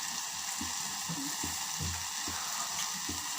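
Pasta sauce simmers in a pan, a steady close hiss and sizzle running throughout with soft low bubbling pops and an occasional stir.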